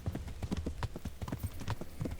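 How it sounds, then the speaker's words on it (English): Horse hooves galloping in the medieval RPG Kingdom Come: Deliverance, a steady rapid clip-clop rhythm of repeated hoofbeats, fairly close and continuous throughout with no talk over it. "I have the fastest horse in the land."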